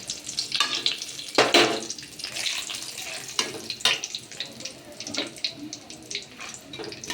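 Bay leaves and whole cumin seeds hit hot oil for tempering in a chicken curry, giving a bright sizzling crackle with sharp bursts and spits that flare and settle, close and moderately loud, with no talking.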